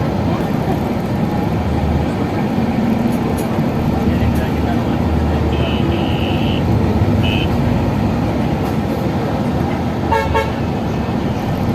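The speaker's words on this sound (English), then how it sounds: "there really is a lot of traffic" Dense road traffic on a busy route between Karachi and Rawalpindi, Pakistan, heard from inside a bus: a loud, steady roar of engines and tyres with repeated horn toots, some near and some farther off, and a voice faintly in the mix.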